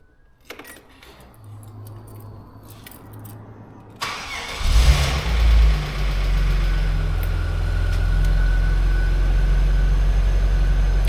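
A Vauxhall Omega under repair with new engine mounts: keys jingle, then the car's engine cranks and catches with a loud roar before settling into a steady, close idle.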